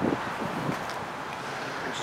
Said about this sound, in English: Wind's picking up a little bit, isn't it?